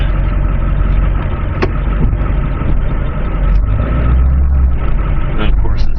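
A diesel snowplow truck engine runs during snow clearing. It makes a loud, steady, close low rumble that holds throughout, with slight swells in intensity.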